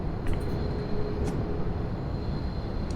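A shuttle train runs on the Gwangmyeong depot line, giving a steady, moderately quiet rolling rumble with a thin sustained whine above it and a couple of faint clicks early on, no talking.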